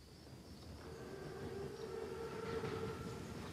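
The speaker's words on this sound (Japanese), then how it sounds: "やたらでかい列車だ。 それにあの装甲、 装甲列車だ。" An armored train rolls by in the Call of Duty: WWII video game as a steady, continuous rumble with a low droning hum, moderately faint and without speech.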